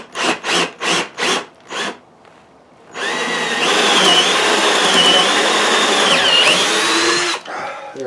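A drill bit cuts into wood for a Sharpie holder: several short rhythmic rasping strokes, then a loud sustained whining drill bore lasting several seconds, close and alone.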